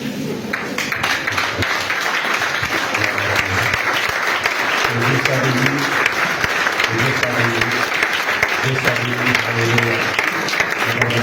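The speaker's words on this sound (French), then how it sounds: "Est-ce que l'Église peut se lever et on va s'acclamer nous-mêmes?" A church congregation claps steadily and loudly throughout, a continuous wash of applause with voices and music underneath.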